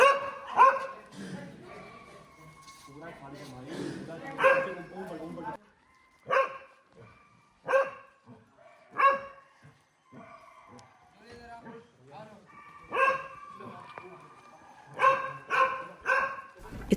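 Dogs at an animal shelter in Varanasi bark repeatedly around feeding time, sharp overlapping barks and yips from several animals coming in bursts with short quieter gaps between.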